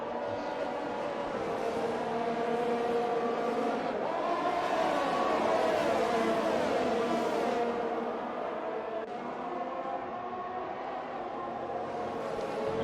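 Race cars on the Albert Park circuit in a racing video game, engine whine rising and falling in pitch as cars pass, mid-distance and continuous.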